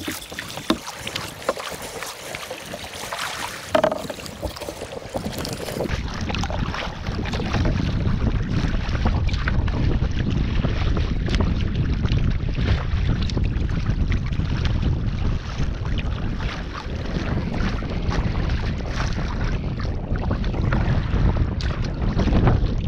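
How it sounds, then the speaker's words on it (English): A kayak is paddled at sea along the Jurassic Coast near Lyme Regis. Strong wind buffets the microphone in a constant loud roar that mostly buries the water and paddle sounds. "I can't actually paddle this fast"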